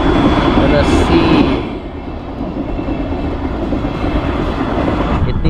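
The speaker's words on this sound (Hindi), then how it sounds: "ये सेंट पीटर्सबर्ग का रेलवे क्रॉसिंग है, लेकिन जो गाड़ियां हैं वो रुकी हुई हैं दोनों तरफ से। ट्रेन आने वाली है" A short train rolls past a railway crossing in Saint Petersburg, its steady rumbling wash loud and close from the start and easing slightly after a couple of seconds, with a voice speaking over it.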